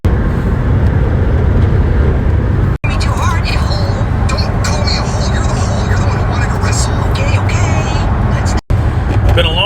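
Steady broadband road rumble from inside a truck cruising on a long family road trip, continuous and fairly loud throughout with two brief dropouts, and some faint voices in the cabin.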